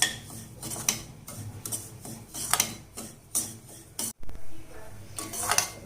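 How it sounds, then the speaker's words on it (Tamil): Semolina is dry-roasted in a pan, with irregular metallic scrapes and clinks of a spoon stirring against the pan, close and moderately loud, plus a brief dropout near the end. "நம்ம எடுத்து வச்சுக்கிற ரவையை அதில் சேர்த்து நல்லா வாசனை வர்ற வரைக்கும் வறுத்து எடுத்துக்கலாம்"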